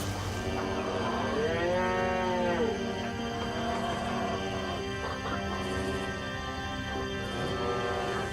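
Live cattle moo loudly and nearby with several long, drawn-out calls over a steady background, with no voices.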